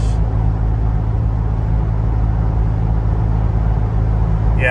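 A Ford Bronco engine pulls a 3500 lb trailer in 10th gear, a steady, loud, low rumbling drone that holds even throughout.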